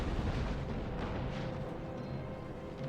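Demi cannons fire in the Total War: Empire strategy game during a battle against a town. The booming artillery blends into a continuous, loud low rumble of battle noise for about three seconds.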